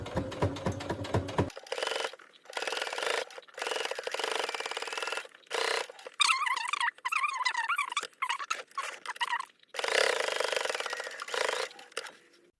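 Sewing machine stitching a zipper into trousers, a run of rapid mechanical stitching bursts broken by short pauses, close and fairly loud.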